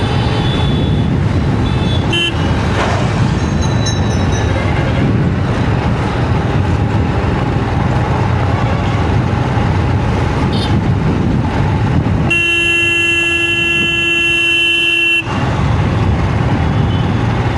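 Busy road traffic on the way from Uthirakosamangai to Rameswaram near the Abdul Kalam memorial, a steady loud wash of engines with scattered honks and a sustained tonal horn blast near the end.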